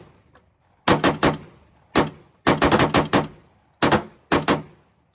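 Rapid gunfire at a 3-gun shooting match, with loud close shots in quick bursts of two to five rounds separated by short pauses, and no talking.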